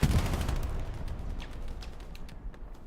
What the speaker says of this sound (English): That's probably 10th Mountain's artillery still coming down in the trenches.